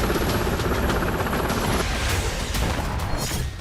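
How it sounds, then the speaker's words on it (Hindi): An Iranian military helicopter during a naval drill at sea, its rotor producing a loud, dense, steady chopping roar that fills the whole stretch without pause. "युद्धाभ्यास में ईरान के हेलीकॉप्टर भी शामिल हैं।"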